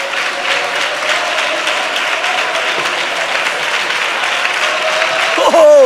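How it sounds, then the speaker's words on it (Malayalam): A church congregation claps together during worship, a loud, continuous wash of applause filling the hall, with a brief rise in volume near the end. "എല്ലാവരും കൈയടിച്ച് ശക്തിയോടെ ദൈവത്തെ ആരാധിച്ചു"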